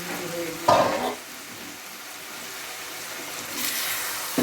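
Yardlong beans sizzle steadily in a hot pan, with a couple of louder scraping stirs breaking through the constant frying hiss.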